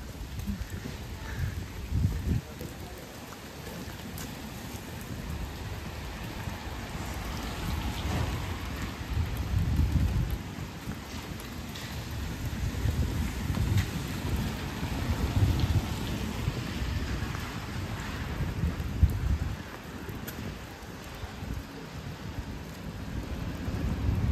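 Steady rain falls on a street during a walk in Haarlem, Netherlands, a continuous wash of drops on surfaces with low rumbles of thunder rolling underneath, moderately quiet throughout.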